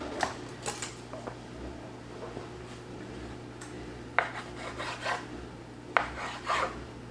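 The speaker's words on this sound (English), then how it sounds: "I'm going to just start cubing these up, these slices" A knife cubes bread slices on a board for a vegan Thanksgiving side, giving sparse, close scraping cuts and soft thuds at irregular intervals over a low steady hum, with no talking.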